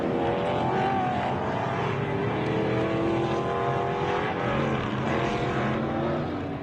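Off-road race vehicles running the course at the MetalCloak Stampede: a steady, loud engine drone with rising and falling revs and no breaks.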